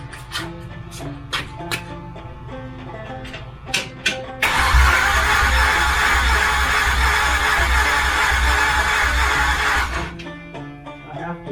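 A 1965 Chevy 283 V8 in a rat rod cranks with several short bursts, then catches and runs loudly and close for about five seconds before cutting out, with a voice briefly audible.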